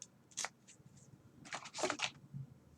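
A few quick crisp snips of scissors cutting paper, close by, in short bursts with a faint quiet background.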